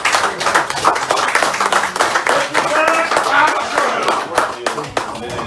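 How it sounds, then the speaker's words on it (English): Audience applause at an Oakland fundraiser for Omoyele Sowore, a dense run of hand claps lasting throughout, fairly loud and close, with voices mixed in underneath. "So let's give him a round of applause."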